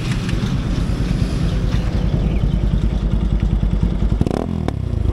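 A KTM NS motorcycle engine roars loudly and continuously up close on a highway ride, with heavy wind buffeting the microphone and a sharp mechanical clatter near the end.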